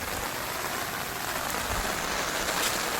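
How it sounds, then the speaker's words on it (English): Steady rain falls during a long downpour while water runs through a yard's French drain, a dense, even hiss of drops with a continuous rushing wash underneath and no voices. "It's been raining for a while."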